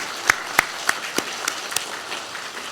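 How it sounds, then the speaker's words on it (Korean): Sparse, separate hand claps ring out in a church sanctuary as a congregation applauds teachers and church members, each clap distinct and spaced, quiet and somewhat distant. "우리 그분들에게 다시 한번 박수 크게 한번 보내주시기 바랍니다"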